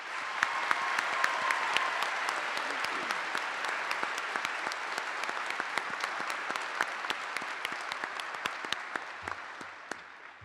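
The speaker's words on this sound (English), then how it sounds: "Please join me in one more round of applause for our master's graduates" A graduation convocation crowd gives master's graduates a sustained round of applause, dense steady clapping that goes on without a break and fades slightly at the end.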